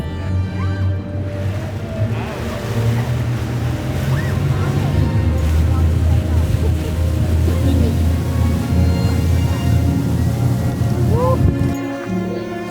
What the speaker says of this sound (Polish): wsiąść na motorówkę typu RIB